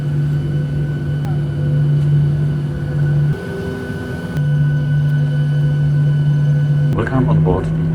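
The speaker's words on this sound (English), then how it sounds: "We are taxiing to the runway and about to start." A United Airlines Island Hopper airliner taxis toward the runway, its engines holding a steady loud drone with a brief dip partway through, and a voice speaks near the end.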